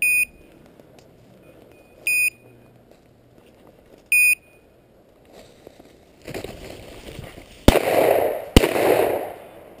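Two sharp, loud gunshots about a second apart ring out during a hunt-club bird hunt, each leaving a broad noisy tail, preceded by three short evenly spaced electronic beeps.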